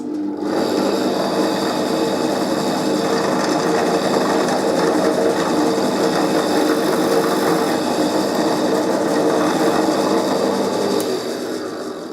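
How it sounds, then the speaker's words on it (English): A drill bores holes with a centre drill into a part for an archtop guitar, a steady, loud whirring drone that runs continuously before easing off at the end. "So I've drilled the 2 holes with the centre drill"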